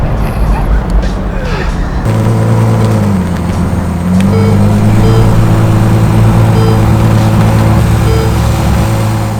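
A Ferrari 812 GTS, the convertible V12, pulls away in first gear, its deep engine drone rising and steady with shifting pitch, close and loud throughout.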